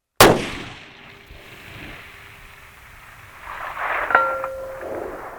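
A sharp, loud precision rifle shot at the start, its report trailing into a decaying rumble, followed seconds later by a faint metallic ring of the bullet striking a 1,000-yard steel target, with no talking.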